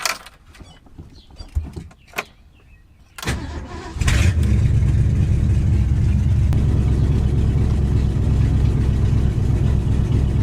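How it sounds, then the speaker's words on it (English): A Ford Galaxie, parked for five years, starts and settles into a steady, loud, low idle in drive after a few brief rattles and clunks, the engine droning on continuously up close. "Seems to be running good. Idling super low in drive"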